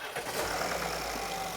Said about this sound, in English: Start it one more time.